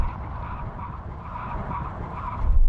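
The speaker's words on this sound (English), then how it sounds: "Full emergency stop from 70 miles an hour when we hit the line across the runway." Mercedes-AMG G63 making a full emergency stop from 70 mph on a runway, a continuous loud tire skid with engine rumble that swells toward the end, no talk.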